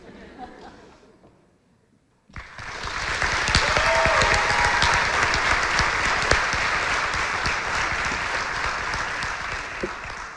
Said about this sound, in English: Let's go ahead and give this class one more big round of applause.